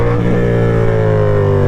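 A Yamaha R7 motorcycle revs hard while accelerating into a wheelie, its engine note loud and close with steady harmonic tones that climb slightly across the short burst.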